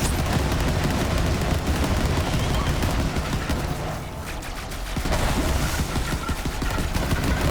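Rapid bursts of Sawbar gunfire in Borderlands 3, loud and dense throughout with a brief lull midway, sharp shots overlapping with impacts.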